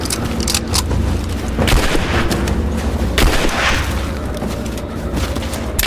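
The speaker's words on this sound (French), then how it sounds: "Je me fais canarder!" Gunfire in the Rise of the Tomb Raider video game: dense, continuous booming shots and bursts with a steady roar throughout, loud and close, with no talk.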